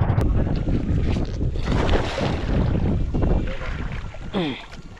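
Strong gusty wind buffets the microphone at sea off Sabang, Palawan, with a low rumbling roar from a small boat's motion through the water, continuous and loud, with brief faint voices in the background.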